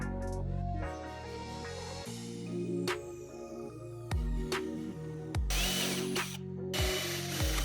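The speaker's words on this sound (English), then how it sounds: "Then flip the board and drill from the other side." A power drill bores holes through a wooden board. Its motor whines, its pitch repeatedly stepping up and down as it cuts in bursts, with occasional ratcheting clicks.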